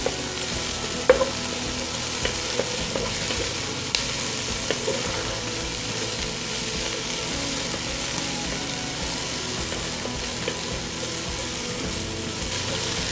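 Onions for Hungarian pork goulash fry in a hot pan, a long steady sizzle with scattered small ticks and a brief clink of stirring, no voices over it.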